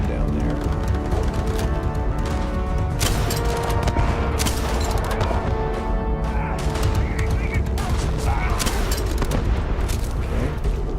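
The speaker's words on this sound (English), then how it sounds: "Somebody with a shotgun down there." Shotgun blasts and other gunfire in a Starfield deathmatch mod match, loud sharp bursts recurring across a dense, busy game mix with a voice talking over it.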